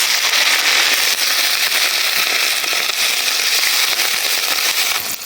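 Water poured onto fried onions in hot oil, bursting into a loud, dense, crackling sizzle that stays steady throughout without talk.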